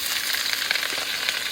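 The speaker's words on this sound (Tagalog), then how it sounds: "Prito din natin yung sibuyas." Sliced onions frying in hot oil in a pan for biryani, a steady loud crackling sizzle close by, with faint stirring scrapes underneath.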